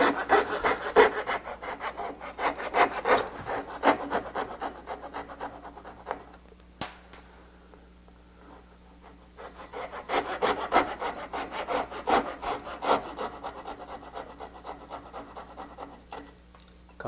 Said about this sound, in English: Now I get my coping saw, get that out of there.